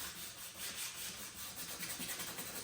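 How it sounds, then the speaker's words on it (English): Close, steady rubbing of sandpaper over Subaru car trim to prep it for paint, a soft continuous scratchy hiss with a faint rhythmic back-and-forth and no talk. "So I am going to get to sanding some of this"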